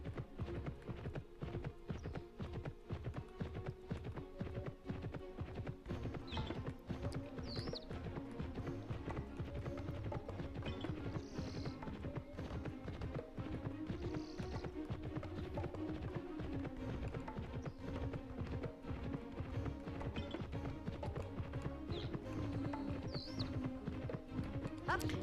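Rhythmic hoofbeats of a galloping horse in the video game Petz Horsez 2 pound steadily for a long stretch, with occasional whinnies and game background sounds.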